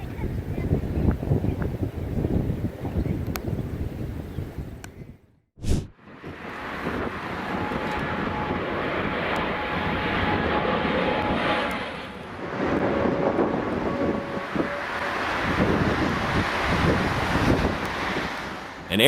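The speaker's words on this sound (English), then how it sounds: "An airplane wobbled as it descended onto the Manchester runway in terrifying crosswinds." An airliner descends onto the Manchester runway in strong crosswinds: a steady roar of engine noise and heavy gusting wind across the microphone, with a brief drop-out midway before the rushing noise resumes.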